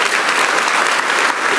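Church congregation applauding during a sermon, a steady, loud, dense roar of many hands clapping with no break.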